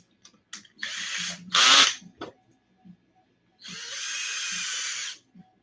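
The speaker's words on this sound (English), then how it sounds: "So, got to drill these and pin them." A power drill whirs in several short bursts, then one longer steady run, close and loud, with small clicks and handling noises between the bursts, drilling holes in RC car control arms for pins.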